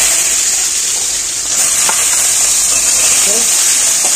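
Cut potatoes fry in hot oil in a pan for a Bengali banana flower curry, making a loud, continuous close-up hiss that holds steady throughout without any speech.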